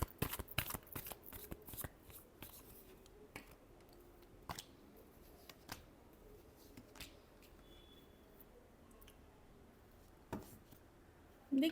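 Tarot cards being shuffled by hand give crisp, quick riffling clicks and flutters, close and fairly quiet, in irregular bursts with no talking.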